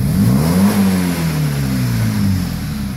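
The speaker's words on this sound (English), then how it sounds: "increase the RPM of the engine and watch for oil burning from the tailpipe. Can you increase it? Give it a stab on the throttle." A BMW 320i engine with worn valve stem seals revs on a stab of the throttle, its loud tone rising sharply, then falling and settling back toward idle.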